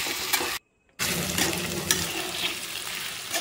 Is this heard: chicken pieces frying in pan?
yes